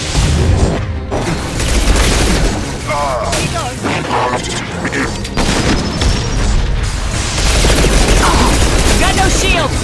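Heavy gunfire and shotgun blasts in the video game Mass Effect 2 form a loud, dense barrage of booms and impacts, with someone talking over the combat.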